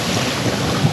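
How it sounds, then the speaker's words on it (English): Wind rushing past a sailboat under sail in Alaska, a loud steady roar and buffeting across the microphone over a brief stretch, with no speech. "the wind's pretty consistent, or at least it has been since we put the sails up"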